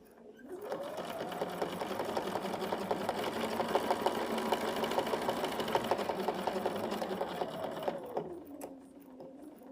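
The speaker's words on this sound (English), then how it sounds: "I'm stitching on the first line that I stitched" A sewing machine runs steadily while stitching along a previously sewn line on a quilt block, its fast, even whir sustained for about seven seconds after a brief start-up, then slowing and stopping near the end.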